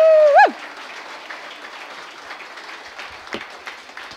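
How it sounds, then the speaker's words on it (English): Audience applause at a summer benefit event: a steady, even patter of many hands clapping that fills the room and continues at moderate loudness, following a brief tone at the start. "Now, please join me in a big round of applause."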